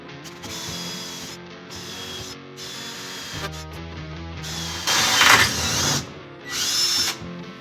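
A power drill whirs in repeated bursts, the motor revving up and down with short pauses between runs, close and fairly loud with a grinding edge near the end.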